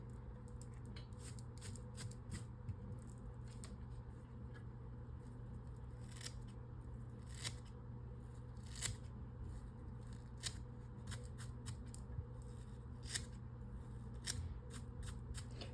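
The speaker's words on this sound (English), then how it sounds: "Now if you have those scissors that curve" Curved scissors trim fly-tying material to shape the head of an 8/0 monster rat fly, a series of faint, crisp snips at irregular intervals over a quiet, hissy room background.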